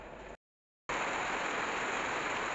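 Heavy afternoon rain pours down in a steady, dense hiss close by, briefly cut off by a short gap of silence before resuming just as strongly.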